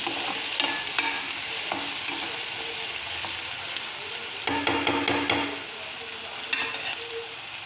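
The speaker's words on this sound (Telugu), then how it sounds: "మధ్యలో అడుగంటుకుంటే ఇలా కలబెట్టాలి బాగా" A spoon stirs egg curry in a hot pan, giving repeated scraping scrapes over a soft background sizzle, with a louder, busier stirring burst in the middle.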